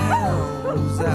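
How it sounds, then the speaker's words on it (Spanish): A dog barks, yips and whimpers through a song, the dog's voice bending in pitch over the steady instrumental backing of the track. "ladra un perro durante toda la canción"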